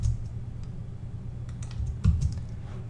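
Fingers type a login on a computer keyboard, quick light key clicks spread through a steady low hum, with a firmer clack near the middle, close and with no talk.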